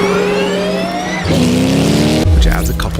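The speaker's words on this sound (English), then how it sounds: "drag starting the big V8 while under electric power momentarily drops the acceleration down to 0" A Cadillac Le Mans race car's big V8 revs loudly, then surges off the line from a standstill, its engine note climbing steeply and stepping up again about a second later, with a voice talking over the engine.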